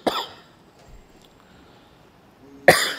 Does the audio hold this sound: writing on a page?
no